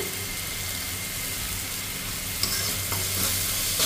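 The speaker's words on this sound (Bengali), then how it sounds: "নুনটা দিয়ে আমি আর একটু কষিয়ে নেব।" Tomato masala with salt sautéing for a fish curry, a steady close sizzle in the pan with a spoon stirring and scraping near the end.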